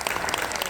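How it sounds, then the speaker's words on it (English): Symposium audience applauding the panelists, a very brief stretch of steady crowd clapping heard mid-ovation. "another round of applause for our panelists"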